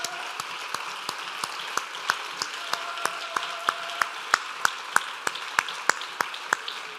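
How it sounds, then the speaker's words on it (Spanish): A church congregation applauds during a Friday evening service, steady rhythmic clapping in unison with sharp regular beats, moderately loud and reverberant over a hum of crowd noise. "Denle un fuerte aplauso al Señor Jesucristo"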